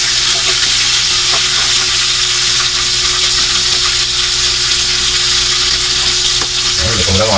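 Milkfish (bangus) frying in oil gives a loud, dense, constant sizzle and crackle close by, with a brief lower clatter at the very end.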